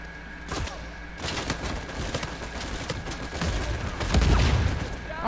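Uncharted 4 multiplayer gunfire pops in scattered single shots and short bursts, with sharp cracks and a heavier low rumble building toward the end.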